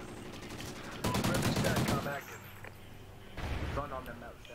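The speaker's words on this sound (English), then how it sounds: "I love this Remington." A Remington fires in a video game as a rapid string of sharp, close gunshots, a dense burst followed by a shorter volley, with gamers talking around it.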